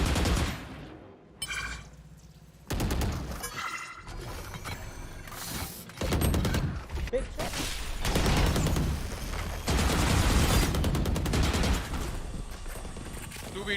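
Video game gunfire in rapid bursts and fusillades with mechanical clatter, loud and dense, broken by brief pauses between volleys.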